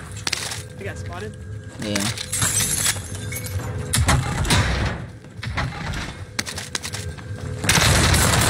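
Gunfire from a rooftop sniper in an online team deathmatch shooter, with sharp shots, glassy breaking and booms cracking through a dense, continuous game mix, while a player talks over it.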